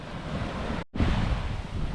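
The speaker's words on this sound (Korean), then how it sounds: "바닷가 왔으니까 파도 치는 것도 구경 한번 하고 가야죠" Ocean surf breaking on the shore at Sokcho on a cold winter day, a steady roar of waves with heavy wind buffeting the microphone, dipping briefly before surging back loud and close.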